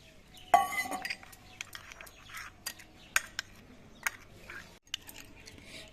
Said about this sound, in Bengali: এবার জল দিয়ে মশলাটা আমি গুলে নেবো